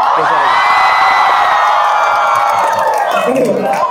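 A large crowd of university students in Surabaya shouts and cheers loudly and continuously, a dense, sustained roar of voices with whoops rising above it.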